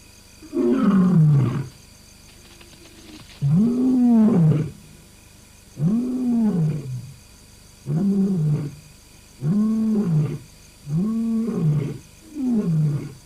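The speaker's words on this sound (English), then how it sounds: "The lion identifies himself by roaring, calling his own pride, warning off others." A wild lion roars at night by the Tsavo River in Kenya, a series of deep rhythmic grunting roars, about seven evenly spaced bursts, loud and close with no other sound between them.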